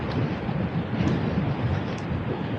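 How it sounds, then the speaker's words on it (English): Steady wind buffeting a microphone outdoors, a constant low roaring rumble that fills the whole stretch with no letup. "see the wind's coming right at me"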